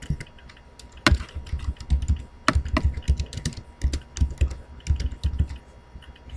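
Typing on a computer keyboard while building a customer order management diagram in Visio: close, irregular bursts of crisp keystrokes with short pauses between runs, heard alone with no talking.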